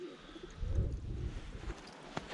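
A pigeon coos low and soft close by, a faint throaty murmur amid quiet room noise and light rustling.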